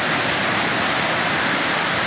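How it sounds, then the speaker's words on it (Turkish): Waterfall at Çağlayan in Erzincan, a steady dense broadband roar of falling water, loud and close, continuous throughout with no voices. "Çağlayan şelalelerinde moral depoluyoruz"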